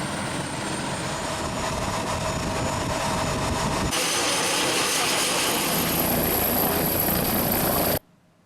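Helicopter delivering food, medicine and supplies to flood and landslide victims in Luwu: a loud, steady rotor and engine roar runs throughout, shifting in tone partway through before cutting off abruptly near the end.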